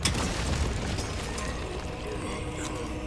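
A grenade blast in Resident Evil 4 opens with a sharp boom, then gives way to a long, loud rumbling roar with a crackling tail that carries on for about three seconds. No voices are heard.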